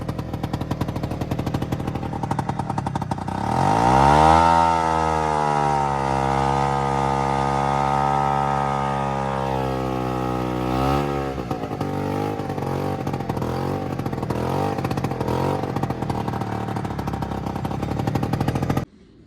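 A two-stroke Attex 6x6 amphibious vehicle engine runs and drives, a loud buzzing rev that rises, holds steady, then drops back to a rough, uneven idle, close by with no talk.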